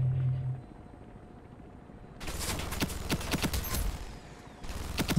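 Rapid gunfire in the AR Ironsight shooter game begins partway through after a quiet stretch, a dense series of sharp shots at moderate volume continuing to the end.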